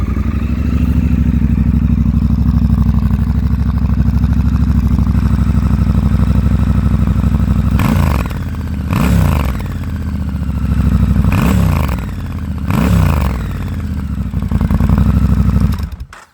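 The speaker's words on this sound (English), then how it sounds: "That 270-degree crank really sounds fantastic." A Triumph Scrambler 1200 XC with a 270-degree crank idles loud and close in a steady, lumpy rumble, broken near the end by four short throttle blips that rise and fall.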